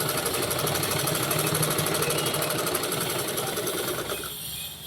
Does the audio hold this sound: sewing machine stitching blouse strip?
yes